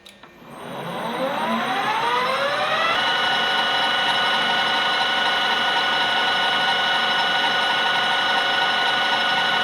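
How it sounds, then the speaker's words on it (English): A metal lathe with a new cutting insert, running at high speed with a fine feed, takes light passes on a steam engine slide valve actuator. Its whine climbs in pitch as it spins up, then holds a loud, steady tone. "take my new insert here and take a couple of light passes on this"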